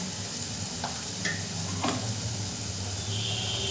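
Pieces of rohu fish sizzle steadily in hot oil in a pan, a constant close frying crackle with a few soft clinks of stirring.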